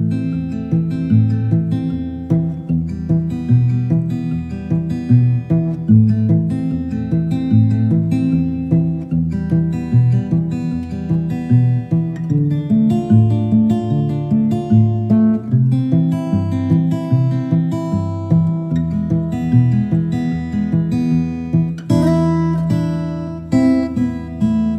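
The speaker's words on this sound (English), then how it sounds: "we're just playing the same two-note roll, but we're keeping it going through the chord progression" Fingerstyle acoustic guitar keeps a continuous two-note roll going through a chord progression, steady picked notes in an even rhythm with shifting chords and a brighter flourish near the end, clear and close with no voice.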